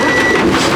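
Lorry turning with a reversing alarm, a loud close electronic beep tone over a low engine rumble, brief and steady.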